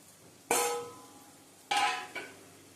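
Uncooked rice poured into a pot while making mutton biryani, two sharp bursts of hissing, rattling grains striking the pot, each fading quickly in an otherwise quiet kitchen.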